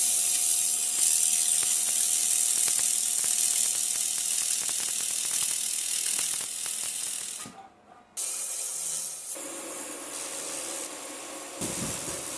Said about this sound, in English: what I'll do is I'll just grind off all the little tacks that I've made